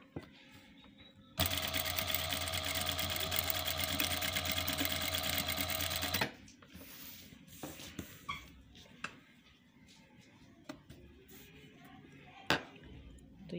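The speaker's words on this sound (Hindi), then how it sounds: "तो ये देखें जी कितना मुश्किल से सिलाई होता है।" A sewing machine stitches a saree over stone embellishments in one loud, steady, rapid burst lasting several seconds, then stops, leaving faint clicks and handling sounds.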